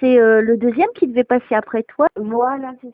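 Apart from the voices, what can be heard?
No everyday noise stands out behind the speech.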